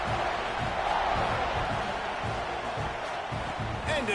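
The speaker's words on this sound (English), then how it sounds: "this crowd is buzzing after that last score" Football stadium crowd at a Texas A&M game, a steady loud roar and buzz of thousands of fans after a score, continuous and dense with scattered shouts and whoops throughout.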